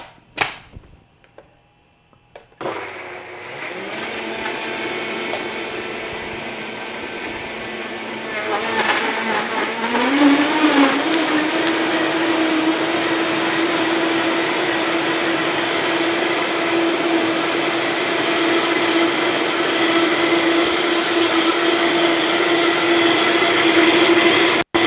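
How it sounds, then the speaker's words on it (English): A blender runs continuously for over twenty seconds making a smoothie, starting after a few clunks and ramping up into a loud, steady whirring drone that holds to the end. "I'm going to put this in my blender."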